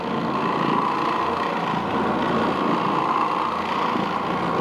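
An Oreck Orbiter floor machine with brush and bonnet scrubs carpet, giving a constant, even motor drone at close range with no pauses.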